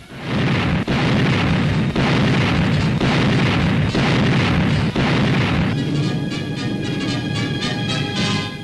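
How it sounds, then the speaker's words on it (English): Anti-aircraft guns firing in 1941 wartime Indochina, a dense, continuous roar of heavy booming bursts at close range, with sharp reports near the one- and five-second marks and a tonal whine emerging toward the end. "Here already, Ack gunners are in action."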